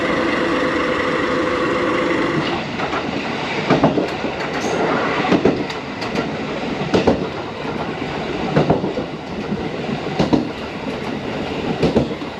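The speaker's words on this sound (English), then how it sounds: "the train has just arrived" A DL diesel locomotive train on the Yamaguchi line in Japan rumbles loudly and steadily nearby as it arrives at a station, wheels clacking at regular intervals over the rails.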